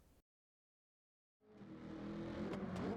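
Tuned and modified 1967 Chevy Nova in Gran Turismo 7 on the Nürburgring: after a brief silence, a loud engine note rises and holds steady, a continuous close drone of a car driven hard.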